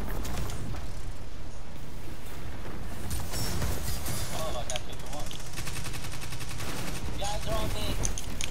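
Dense bursts of automatic gunfire crackle through a video game clan fight, rapid overlapping shots continuing throughout at moderate volume, with a busy mix of game effects underneath.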